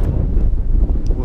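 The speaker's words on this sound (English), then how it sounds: "it is still really windy" Strong wind buffets the microphone on an exposed mountain summit at 676 m in the Howgill Fells, a steady low rumbling roar filling the whole short stretch with no voices.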